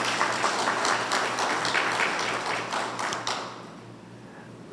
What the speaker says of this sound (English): Please let's give him a big round of applause.